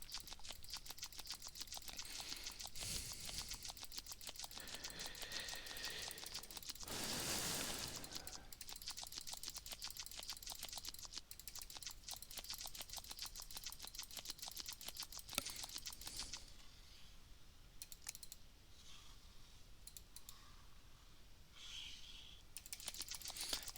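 Mouse clicks from someone playing Cookie Clicker blindfolded, heard as a quiet, steady stream of small sharp clicks with uneven spacing, close but faint, with no speech over them.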